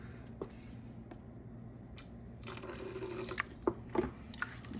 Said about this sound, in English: Just add a little water, it's not the end of the world.